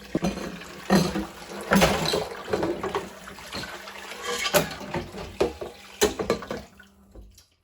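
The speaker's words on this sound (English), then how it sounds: "so I can just rinse them with water, and they're good to be in the dishwasher." Running water splashes and gurgles steadily in a sink, with irregular clinks and splashes as items are rinsed under the flow.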